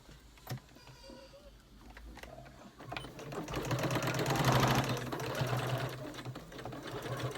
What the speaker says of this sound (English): then just sew from the top.